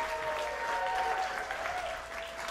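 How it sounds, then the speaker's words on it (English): Audience at a puppet cabaret in Chicago applauds an act, a soft, steady wash of clapping heard at a distance, with a faint tonal hum running beneath it. "Let's have another big round of applause for that act"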